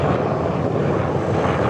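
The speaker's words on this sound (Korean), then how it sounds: "헬기가 이렇게 생각보다 소음이 심하게 들어가는데" Helicopter passing outdoors, a loud, steady broadband rotor and engine roar filling the whole clip with no speech over it.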